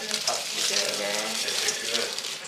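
Locusts frying in oil, a steady broadband sizzle and crackle running continuously at close range, with faint voices in the background.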